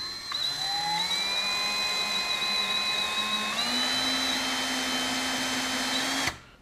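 Power drill boring a hole in a ukulele body for a strap button, a loud steady whine that steps up slightly in pitch midway, then stops abruptly.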